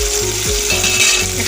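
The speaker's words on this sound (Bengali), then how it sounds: "একটু লবণ, একটু হলুদ দিয়ে আলুগুলোকে লাল লাল করে ভেজে নেব" Potatoes seasoned with salt and turmeric fry in oil with a loud, continuous close sizzle, punctuated by a few scraping stirs of a utensil against the pan.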